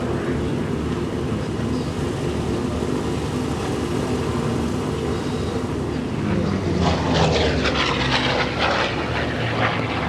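Propeller engines of a Junkers 52 aircraft idling and rumbling steadily as the plane taxis at an airshow, a continuous loud drone with faint voices in the background.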